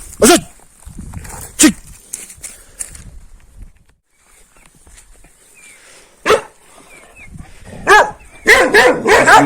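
A Kangal dog in a village barks in loud, sharp bursts, a few spaced single barks followed by a rapid cluster near the end, with rustling between.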